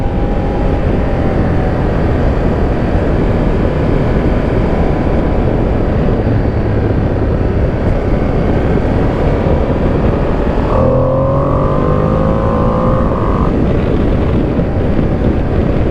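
2025 Ducati Panigale V2S motorcycle accelerating on the road, heavy wind roar nearly continuous over the engine, with a rising engine tone as the throttle opens near the end and no speech.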